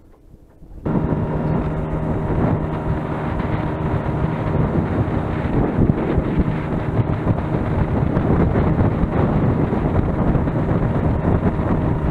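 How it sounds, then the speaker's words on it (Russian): Strong wind suddenly roars across the microphone and keeps buffeting it loudly and continuously, a dense low rumble with no voices. "Ветер поднимается."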